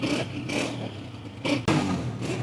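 A used Honda 125 motorcycle engine idles with a mechanical clatter and rises in two short revs, loud and close, with no talk.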